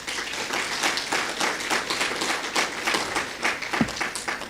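Sustained applause from an audience at an honour-roll awards ceremony, steady dense clapping with no voices.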